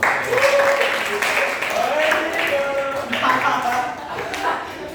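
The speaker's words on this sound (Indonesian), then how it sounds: "Ya, tepuk tangan dulu." Students in a sedimentology class applaud in a brief, moderately loud patter of clapping, with voices talking over it in the room.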